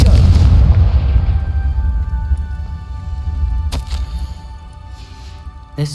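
A Confringo fire spell bursts in Hogwarts Legacy with a heavy low boom that rolls and fades over a few seconds, followed by a couple of sharper crackling hits.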